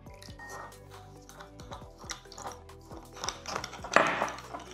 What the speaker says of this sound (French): Maintenant je vais rajouter un petit peu d'eau tout en mélangeant avec la cuillère.